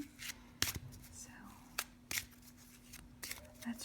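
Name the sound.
shuffling a deck of angel oracle cards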